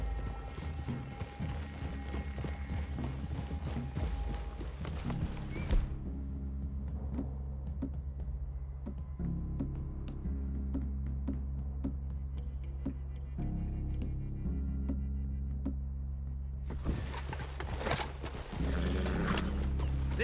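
Horses trotting in Red Dead Redemption 2, a steady clip-clop of hooves in an outdoor setting under a continuous low ambient bed, with a brief louder passage at the start and end.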